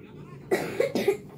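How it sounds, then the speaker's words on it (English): A young boy in a hospital gives a quick burst of three close, wet coughs in just over a second. "And he's coughing a lot."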